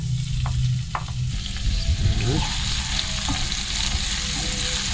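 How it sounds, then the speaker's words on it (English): Red onions frying in olive oil make a loud, continuous sizzle close by, with a few stirring scrapes partway through and no voices. "put olive oil. I'm gonna fry up the onions now. In they go."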